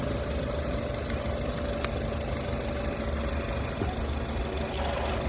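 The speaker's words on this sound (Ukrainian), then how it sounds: "Моторчик працює реально, класно працює." A 2011 Nissan Qashqai+2 with a 2.0 petrol engine and automatic transmission idles steadily with a continuous low, even rumble and no voices throughout.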